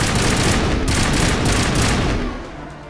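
Geth sniper fire in the Mass Effect Legendary Edition battle on Virmire crackles as a dense, loud burst of gunfire lasting a few seconds before tapering off, with no voices.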